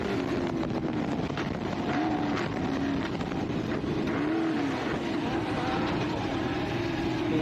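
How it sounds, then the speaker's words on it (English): A race car engine at full throttle in the ARB Big Desert 480 off-road race, a steady loud drone with rising and falling pitch as it passes, with wind noise across the microphone. "Gee, have a listen to Bo's car out there."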